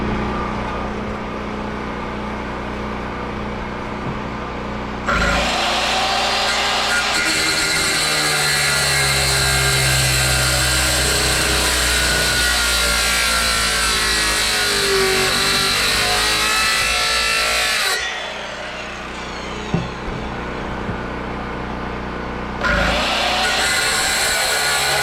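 A drill bores a 2-inch hole while a sump is installed in a greenhouse, producing a loud, steady grinding whine for about thirteen seconds, then quieting before a second shorter run starts.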